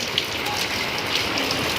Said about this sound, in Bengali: একেবারে গুড়ি গুড়ি বৃষ্টি